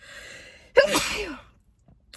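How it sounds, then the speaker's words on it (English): One sharp, close sneeze bursts out after a quiet moment, followed by a brief breathy tail and silence. "I have to sneeze."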